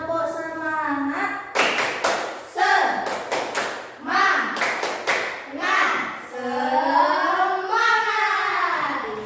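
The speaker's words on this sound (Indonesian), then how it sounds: "kita ice breaking dulu, yaitu tepuk semangat dulu" Elementary students in a classroom perform a rhythmic clapping chant as an icebreaker, sharp clustered bursts of handclaps in patterned groups alternating with children's chanted voices, loud and close.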